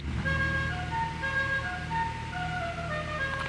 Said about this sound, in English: Yeah, that's my horn.